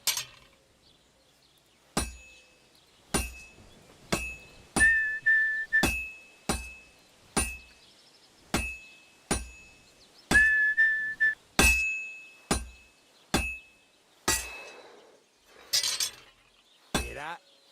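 A hammer strikes hot metal on an anvil at a blacksmith's forge in Kingdom Come Deliverance II: sharp, ringing metallic clangs land roughly once a second in a steady rhythm, some with a lingering high ring.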